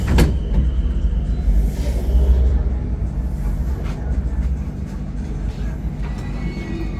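Bangkok skytrain running between Phloen Chit and Chit Lom stations, a steady low rumble and rolling hum of the railcar with faint clanks and rattles throughout, close and continuous with no talk.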